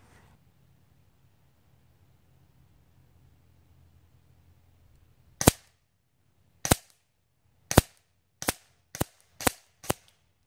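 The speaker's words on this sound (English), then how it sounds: "I'm gonna fire at this little target right here. See where I hit at 50 yards." Semi-automatic Hatsan Galatian Tactical air rifle fired at a small target 50 yards out, giving six sharp, loud shots after a quiet stretch, first spaced over a second apart, then quickening into a closer run.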